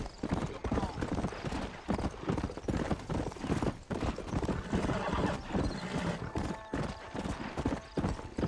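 Steady clip-clop of horse hooves in the Red Dead Redemption Wild West video game, a fast rhythmic gallop running throughout, with a horse whinny and someone talking over it.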